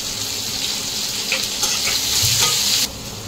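Chopped onion and green chilli sizzle steadily in hot oil in a pan while cooking chana dal, a dense continuous frying hiss with a few soft stirring scrapes near the end, close and fairly loud, with no talking.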